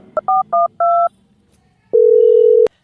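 Touch-tone phone keypad beeps: four short dual tones in quick succession, a pause, then one long steady tone, loud and clear against a quiet background.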